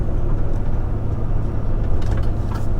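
A loaded lorry engine labouring on the road while air pressure builds and gears are hunted, a heavy low rumble with steady droning and faint hissing.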